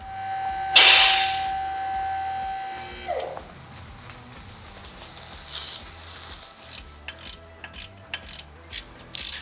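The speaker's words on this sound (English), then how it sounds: "I'm taking the last bolt of the compressor to take off" A ratchet clicks in quick bursts while loosening the last compressor bolt on a 1985 Ferrari 308, following a sharp squeal and metallic clatter, with scattered tool knocks close by.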